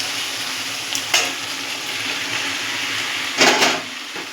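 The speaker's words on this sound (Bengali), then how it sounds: "এইবার আমি এর মধ্যে সয়াবিনগুলো দিয়ে দেবো।" Soya chunks dropped into a pan of spiced gravy bubbling in oil, giving a steady sizzle with two brief louder bursts as they hit the hot fat.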